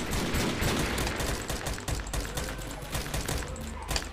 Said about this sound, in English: I was firing everywhere